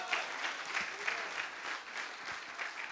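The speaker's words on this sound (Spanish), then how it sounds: "Si van a aplaudir, pues apláudenle al Señor." A church congregation applauds during a sermon, a continuous wash of many hands clapping at moderate loudness, with a voice faintly present underneath.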